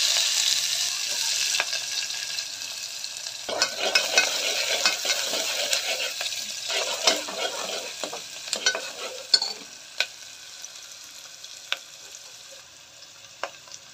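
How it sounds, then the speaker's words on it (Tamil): Fennel seeds, cinnamon, cardamom and onion frying in hot oil for a mutton curry, a steady close sizzle broken by scattered sharp clicks and scrapes of stirring. "எண்ணெய் காஞ்சிச்சு, கொஞ்சோண்டு சோம்பு போட்டுக்கலாம். ஒரு பட்டை, ஒரு காம்பு, ஒரு ஏலக்காய், வெங்காயம் போட்டுக்கலாம்."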